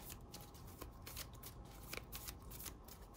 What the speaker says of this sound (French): Et là, vous pouvez donc mélanger votre jeu